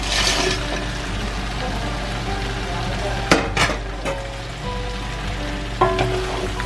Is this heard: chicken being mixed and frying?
yes